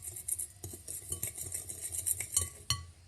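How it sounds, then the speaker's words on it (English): A spoon stirs ingredients in a mixing bowl in a home kitchen, with quick repeated clinks and scrapes against the bowl, close and fairly quiet. "Stir it on up"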